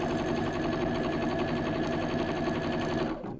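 A freshly oiled and serviced sewing machine stitches a hot pad with a steady, fast mechanical whir and rhythmic needle chatter, running close and alone for about three seconds before stopping abruptly.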